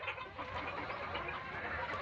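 Layer hens clucking on a small Sonali poultry farm, a dense, steady chorus of many birds close by with no voices over it.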